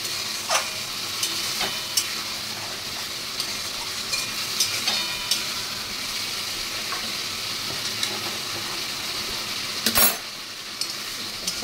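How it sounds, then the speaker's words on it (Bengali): A spice paste sizzles and fries in a pan while being stirred, with a continuous crackling hiss and occasional sharp scrapes and clinks of the spoon against the pan, and no talking. "এবার এটা ভালো করে আমি এখন কষবো।"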